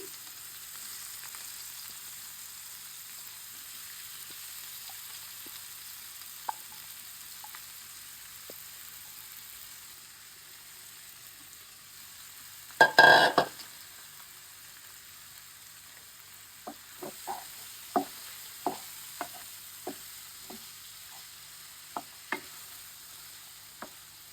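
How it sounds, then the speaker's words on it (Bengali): Chicken pieces fry in hot oil for a homemade pizza, giving a soft, steady sizzle with scattered crackles and pops and one louder spitting burst partway through. No one speaks. "তেলটা গরম হোক এখন আমরা চিকেনগুলো দিয়ে দিচ্ছি"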